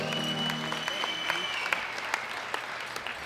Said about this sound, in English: Give all of our winners a big round of applause.